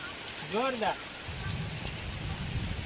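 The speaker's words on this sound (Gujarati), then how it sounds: "સારામાં સારો વરસાદ પડે છે" Steady rain hisses and patters on surfaces of a farm field during a thunderstorm, after a brief vocal sound near the start.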